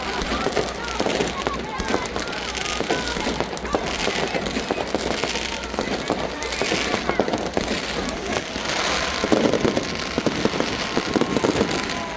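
Fireworks bursting at a street celebration in Cuenca, Ecuador, a dense crackling barrage of pops and bangs that runs throughout amid crowd noise and background chatter.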